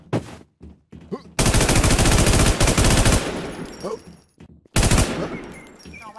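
Rapid automatic gunfire in the shooter game Infestation, long loud bursts of fast repeating shots broken by short pauses, with brief voices between the volleys.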